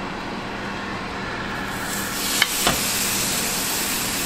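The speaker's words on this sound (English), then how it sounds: "Nice sizzle." A steak sizzles steadily on the Power XL Air Fryer Grill, a close, continuous hiss of frying with a couple of faint clicks partway through.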